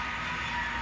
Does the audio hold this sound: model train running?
yes